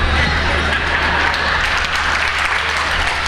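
An audience at a motivational speech breaks into loud, dense applause, many hands clapping continuously and close by throughout.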